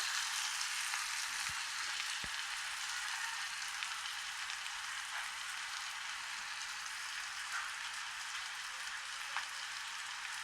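Onions frying in a covered pan, a steady soft sizzle with high crackle throughout and a few faint clinks, no voices.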